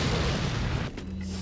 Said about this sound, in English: Incendiary grenade, yes,